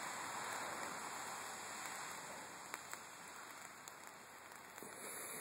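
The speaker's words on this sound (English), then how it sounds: "And it's raining." Rain falls steadily in a backyard, a dense even hiss with occasional sharper drip ticks, continuous and fairly close, with no one talking.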